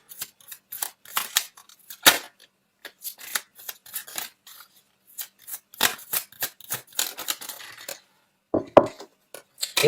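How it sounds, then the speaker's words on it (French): A tarot card drawn from the deck, with close, dry paper rustles, snaps and brisk shuffling clicks coming in quick irregular bursts throughout, no voice. "je vais sortir une troisième carte"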